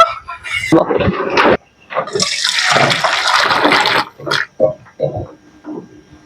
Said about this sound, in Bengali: কড়া ধুয়ে বসিয়ে দেবো